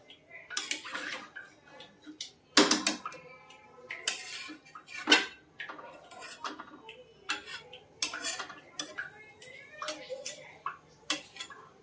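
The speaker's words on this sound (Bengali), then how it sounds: "এটা নেড়ে নিলাম।" A spoon scrapes and clanks against a metal pot while soybean curry is stirred, sharp irregular knocks and scrapes close up with quiet gaps and faint voices in the background.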